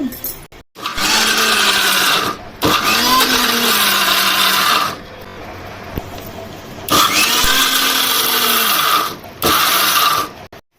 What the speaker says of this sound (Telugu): మిక్సీ గిన్నెలో వేసుకొని ఆపు రౌండ్లు వేసేసుకున్నాం